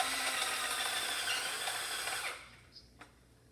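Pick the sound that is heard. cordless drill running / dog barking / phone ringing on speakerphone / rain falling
cordless drill running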